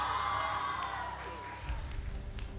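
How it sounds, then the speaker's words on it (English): A crowd at an esports match cheers a victory, a broad, moderately distant roar with whoops, running under a caster's talk. "and the crowd loves it."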